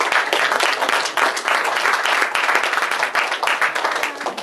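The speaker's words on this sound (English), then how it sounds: "Give him a round of applause." Audience applause at a 2013 graduation ceremony in Pilot Point: dense, steady clapping from a sizeable crowd, loud and sustained throughout with no pauses.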